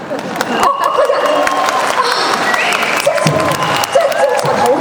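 Audience applause at a concert in Toronto, 2012, a crowd clapping and cheering in a busy hall, with chatter and voices mixed in across the whole stretch.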